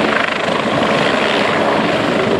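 Rescue helicopter hovering low at an air show, its rotor and turbine roaring loud and steady from start to finish, with a dense, continuous wash of chopping noise and no voices.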